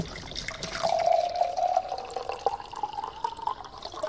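Milk being poured into a glass in a soy milk advertisement, a steady trickling stream that rises gently in pitch as the glass fills, close and clear with no talk.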